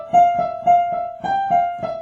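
A one-handed piano line in thirds from a gospel tune, with about six repeated paired notes in an even rhythm. It sounds close and clear, with no talking over it.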